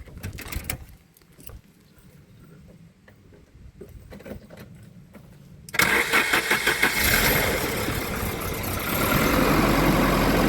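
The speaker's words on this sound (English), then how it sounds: "I'm just going to fire the car up" A Volvo 740 engine cranks after a few quiet clicks and knocks, then catches and settles into a steady idle that grows a little louder, heard close with no talk.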